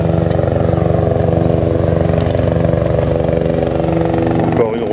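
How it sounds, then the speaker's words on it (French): A helicopter's rotor thumps steadily and loudly overhead in the Néouvielle mountains, with birds chirping faintly in the background and a brief rustle near the end. "Encore une rotation d'hélicoptères, hein."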